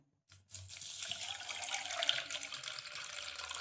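Half a cup of water poured into a bowl of gram flour dhokla batter mixed with sugar, lemon juice and turmeric, a short close splashing gush after a brief silence.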